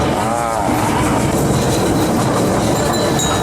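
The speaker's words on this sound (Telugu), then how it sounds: "ట్రైన్లో ఉన్నాం ఇప్పుడు" A small toy train runs on rails through a national park, heard from on board as a loud, continuous rolling rumble with faint squealing tones and no clear pauses.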